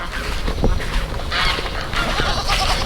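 Farm geese honk repeatedly in bursts over a noisy outdoor background, fairly close, with overlapping calls and little pause between them.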